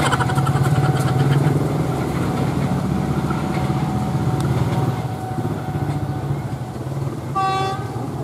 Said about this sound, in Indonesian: Ada bunyi lokomotif teman-teman